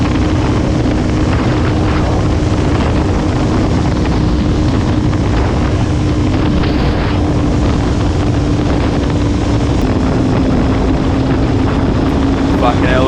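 Heavy, constant wind roar buffets the microphone on a motorcycle ride through winding Australian mountain roads, loud and unbroken throughout, with a faint engine drone underneath and a voice talking over it.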